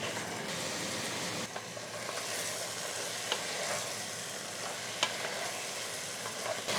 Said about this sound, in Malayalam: ഒരു മീഡിയം ഫ്ലെയിമിൽ 2 മിനിറ്റ് നേരം ഒന്ന് വഴറ്റി കൊടുക്കാം.